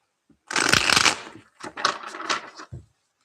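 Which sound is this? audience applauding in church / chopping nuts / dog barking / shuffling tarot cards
shuffling tarot cards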